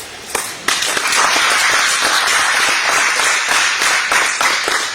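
A conference audience at a sports financing event breaks into clapping, with a few sharp early claps swelling into sustained, loud applause that carries on for several seconds.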